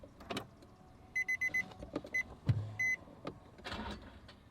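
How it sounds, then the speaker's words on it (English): A car left undriven for three weeks with a dead battery fails to start, giving short repeated electrical clicks and chimes in a few bursts, with faint thumps and handling noise around them. "Yep, no, car's completely dead."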